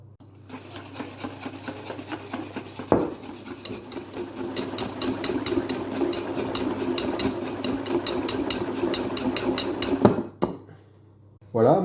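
Sugar, eggs and lime zest for a lime cake are whisked vigorously in a bowl, giving a close, fast, rhythmic scraping that runs steadily for several seconds between a few sharp knocks.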